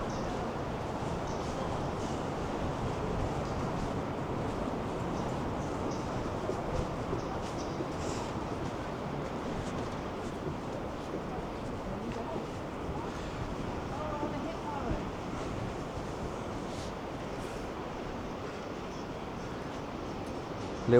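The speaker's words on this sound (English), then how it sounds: "A very windy" Strong wind buffets the microphone on Eastbourne Pier, a steady low roar lasting throughout with faint sea wash beneath and occasional gusts.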